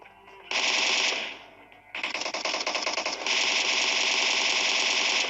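Sustained automatic gunfire from a video game, pre-firing in a shooter match: a loud, close burst, a brief pause, then a longer continuous stream of rapid shots with no talking.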